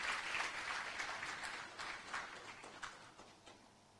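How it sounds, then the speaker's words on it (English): Soft, dense applause from a conference audience at Strathmore University in Nairobi welcomes a speaker, holding briefly at a distance before thinning and fading away. "We can welcome him with a clap."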